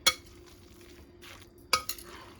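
Metal spoon stirring thick cassava cake batter in a bowl, with two sharp clinks against the bowl's side and soft scraping in between, close and fairly quiet.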